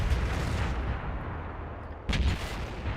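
In World of Tanks, an IS-3 heavy tank cannon fires, a heavy booming blast that opens the scene and a second sharp report near the end, heard over steady engine and battle rumble.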